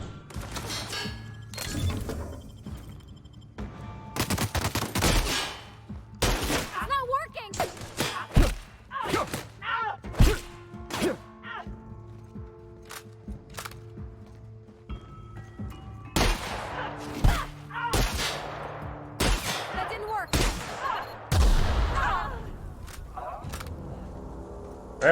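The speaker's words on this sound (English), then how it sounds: "Wherever this gun is, this shoots like really hard. The recoil is terrible." Heavy gunfire in The Outer Worlds video game, loud sharp shots fired in rapid irregular bursts with short pauses between volleys, and a player's voice speaking at times between the shots.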